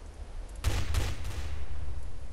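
A short burst of several rapid gunshots in the shooter game Counter-Strike: Source, close and sharp, followed by lingering game background noise.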